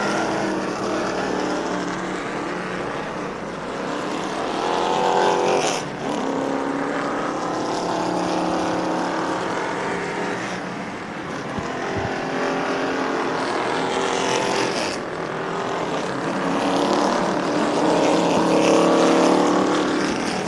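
Stock cars in a Great American Stocks Firecracker 100 race roll two by two behind a pace vehicle under caution, a steady droning engine roar that swells and fades as the pack passes.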